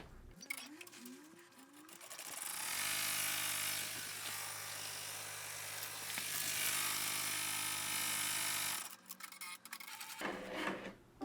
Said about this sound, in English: our last stitch here is going to be a bean stitch all the way around the hat